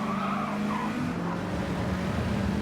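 A Mazda race car's engine drones steadily as it brakes hard and skids, with a sustained tire squeal running through the whole stretch at close range during a motor race.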